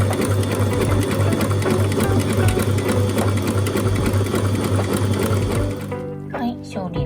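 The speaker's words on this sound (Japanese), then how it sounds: "この刃物のところに端っこを合わせて縫っていきます" A sewing machine with a cutting blade stitches and trims a fabric edge, running in a fast, steady buzz before stopping near the end, with a voice talking over it.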